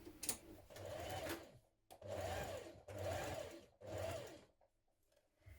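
A sewing machine runs in several bursts of a second or so each, edge stitching a pocket onto a spring dress, with short pauses between the runs and no talk.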